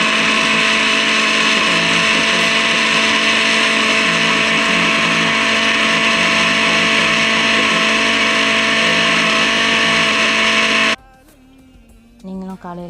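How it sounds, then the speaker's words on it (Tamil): A blender whirs loudly and steadily, blending a milkshake of ice cream, overnight-soaked nuts and milk, running continuously for about eleven seconds before cutting off into quiet with a few soft clicks. "அதை சேர்த்து பால் சேர்த்து அடித்து கொடுத்தேன்."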